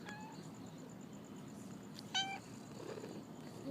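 A pet cat lets out a short meow in a quiet outdoor setting, with faint background ambience around it and a couple of fainter chirps earlier.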